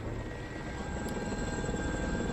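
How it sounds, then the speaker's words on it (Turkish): A helicopter drones steadily with a dense, continuous rotor and engine roar, loud and close throughout with no pause. "Helikopter."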